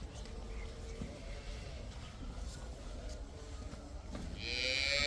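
A large dairy cow lets out a low moo near the end, over a quiet cattle-farm hum with faint bird sounds.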